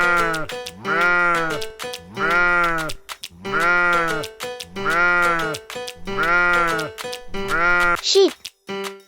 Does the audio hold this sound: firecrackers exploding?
no